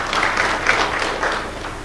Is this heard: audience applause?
yes